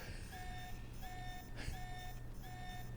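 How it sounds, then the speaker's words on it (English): Alarm going off in Alpha Protocol: a repeating two-tone electronic beep sounding about twice a second, fairly faint under a steady background hum, with a brief clatter in the middle. "And alarm's already going off."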